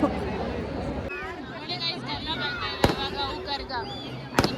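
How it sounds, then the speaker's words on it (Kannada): Sharp firecracker bursts go off a few times at the Dommasandra Karaga festival amid a noisy crowd chattering around, with loud cracks standing out over the babble. "ಪಟಾಕಿ ಹೊಡಿತಿದ್ದಾರೆ."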